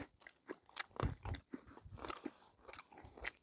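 Snoop Dogg flavored potato chips being crunched and chewed close up, a run of crisp irregular bites and chomps with no talk.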